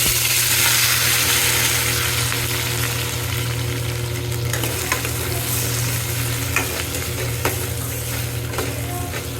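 A vegetable dish sizzles and fries steadily in a pan while being stirred, with occasional scraping and clinking of the spoon against the pan over a loud, constant hiss.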